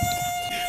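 A mosquito buzzing sound effect in a musical fairy-tale play: a thin, steady, high-pitched whine that holds without a break, close and clear, with no talk over it.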